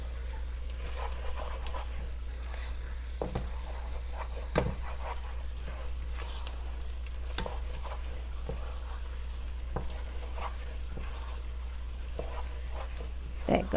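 A flour mixture for chicken pot pie sizzles in a pot under a steady low hum, with intermittent scrapes and clinks of a utensil stirring it at close range.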